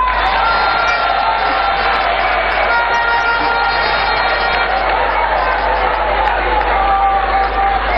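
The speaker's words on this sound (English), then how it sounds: "so the dad should clap for us" A crowd cheering and clapping at a speech by a speaker, a dense, steady roar of applause and voices that stays loud and unbroken throughout.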